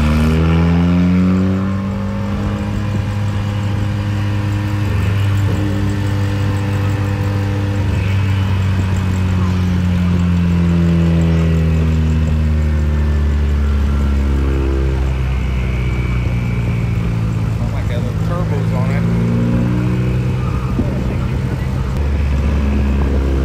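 High-horsepower modern muscle cars idle and rev in the staging lanes at a drag racing event, with a loud, steady low rumble and engines swelling and easing, while someone talks over the noise.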